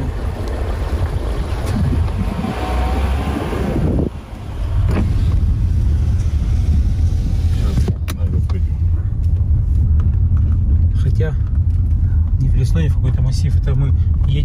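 A car driving on a bumpy dirt road between overgrown fields, with a constant low rumble and wind noise from inside the cabin while people talk throughout.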